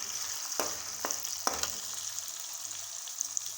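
Onions fry in a pan after chicken for a chicken palak dish, giving a steady close sizzle with a few sharp clacks of a spoon or spatula against the pan, and no talking.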